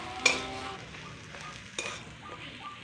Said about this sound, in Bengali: এবার দিয়ে দিচ্ছি মটর।